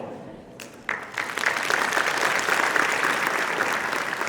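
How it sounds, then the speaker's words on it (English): A live audience breaks into a round of applause after a timed speaking exercise in an IELTS instruction session, starting sparse and swelling into steady, dense clapping that fills the room. "One round of applause for everyone talking."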